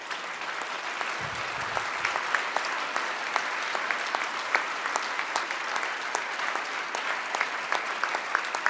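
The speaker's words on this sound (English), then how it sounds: "You deserve an enormous round of applause for your resiliency" An audience applauds caregivers at an award ceremony, sustained, even clapping from many hands that continues without a break and stays fairly distant and moderate in level.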